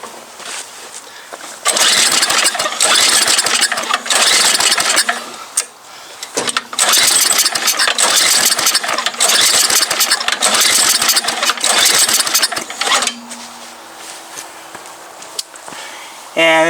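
An MTD Yard Machine snow blower, primed with starting fluid, sputters and catches in loud bursts, firing up repeatedly, dying briefly between runs, then settling toward a rough idle.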